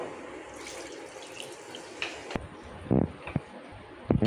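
Water poured into a pot of chicken with spices for chicken biryani, splashing and gurgling in a few short bursts against a quiet background with faint kitchen noise.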